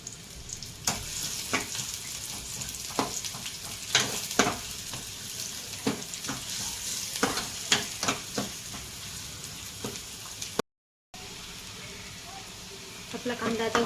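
Onions frying with salt in a pan give a steady close sizzle, cut through by repeated crisp scraping strokes of stirring and a momentary gap near the end.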